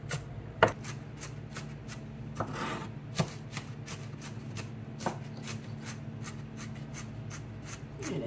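An onion is chopped finely by hand with a knife, a quiet series of quick, sharp blade taps against a board, irregular then speeding into rapid bursts.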